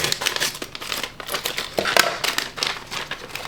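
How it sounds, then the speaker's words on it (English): Scissors snipping and crinkling through the plastic of a Meal Cold Weather US military ration pouch, a close, busy run of crisp rustles and cuts with no talking. "let's just use the scissors"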